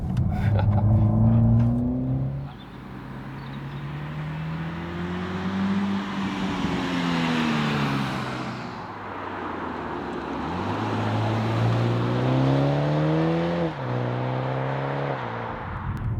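Toyota GR Supra with the four-cylinder engine accelerating hard on a racetrack, the engine note rising through several gears with clear shifts, loud and close, heard from inside the car.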